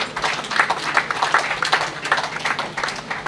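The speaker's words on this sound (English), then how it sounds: "Please can I get a round of applause?" An audience at a hospital grand opening and commissioning ceremony breaks into a steady round of applause, dense overlapping claps sustained and fairly loud throughout.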